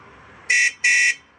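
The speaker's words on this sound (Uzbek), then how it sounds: "Signal, pavorot, yoqib ham ko'rsatib qo'yamiz." A scooter with a closed roof sounds two short, loud, shrill horn beeps in quick succession, close by, with no other sound around them.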